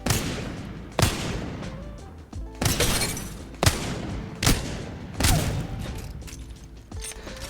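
Wingman revolver firing in Apex Legends at a training dummy, six heavy single shots spaced roughly a second apart, each a sharp close crack with a ringing tail and mechanical clicks between.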